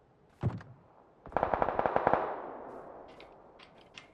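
Video game gunfire: a single sharp shot followed by a quick burst of automatic fire, a string of rapid cracks that trail off, with faint clicks afterward.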